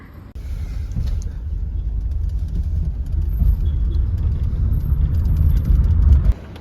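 A car pulls up along a street in Cusco, Peru, its engine rumble rising steadily louder over several seconds as it approaches, then cutting off abruptly.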